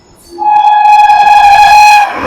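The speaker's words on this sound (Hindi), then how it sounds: "सामने से क्रॉसिंग के लिए आ रही है नई दिल्ली से चल के गया को जाने वाली ट्रेन नंबर 12398" An express train's horn sounds on the crossing track, a loud, steady tonal blast lasting about two seconds before cutting off.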